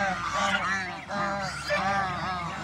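Domestic geese honk repeatedly in loud, close, overlapping calls that rise and fall in bursts, with the flock noise continuing steadily throughout.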